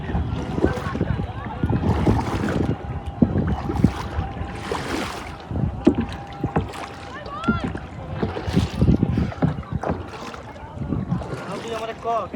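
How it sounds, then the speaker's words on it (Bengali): Paddles splash and dip steadily as a kayak is rowed on the water at Uttara South, the close, uneven strokes running under almost constant voices and some wind. "নৌকা বাইস দেখো, নৌকা বাইস।"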